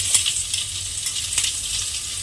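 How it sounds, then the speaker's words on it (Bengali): Chopped onions fry in oil in a pan for a flattened rice and fish head curry, a soft continuous sizzle with faint crackles and occasional stirring scrapes, close and without talk. "পেঁয়াজটাকে একটু লাল করে ভেজে নেব"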